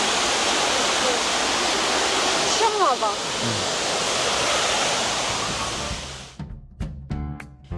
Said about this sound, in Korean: 잠시 시원한 폭포 소리 들어보세요.